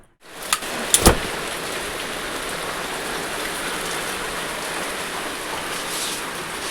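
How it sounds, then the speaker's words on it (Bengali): Rain falling steadily outdoors near a home kitchen, a dense even wash of drops with a couple of sharp knocks near the start, continuing unbroken for several seconds without speech. "বৃষ্টি পড়ছে"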